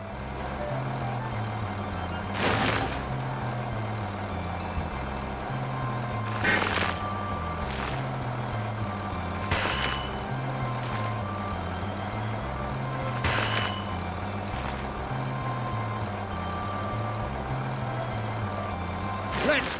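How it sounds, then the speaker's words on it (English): Horrid Lorry in a Thomas and Friends video game reversing and working, with a truck engine droning steadily under repeated reversing beeps and occasional louder clanks or hisses, continuous throughout. "Drive the horrid lorry and fill him with coal, please"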